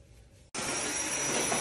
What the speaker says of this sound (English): I have never seen you vacuum a day in your life.